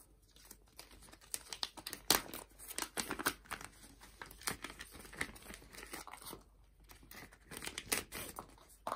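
Plastic zip-lock bag holding a casualty card from a North American Rescue combat first aid kit being handled close up, quiet crinkling and rustling in irregular bursts with small clicks, no talk.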